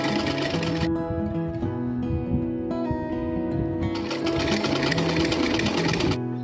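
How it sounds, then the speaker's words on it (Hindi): Sewing machine running steadily as it stitches a fabric cushion from the reverse side, a close, continuous mechanical whir with a brief pause partway through. "उल्टी तरफ से हम लगा देंगे सिलाई।"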